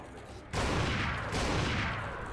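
Rapid gunfire from Resident Evil 4 with the Life In Hell mod, set in a castle: a dense, loud burst of shots begins abruptly after a brief quieter moment and continues steadily to the end.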